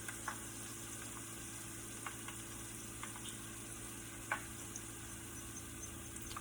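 Brussels sprouts leaves fry in oil in a pan, a faint steady sizzle with a few scattered crackles and pops standing out.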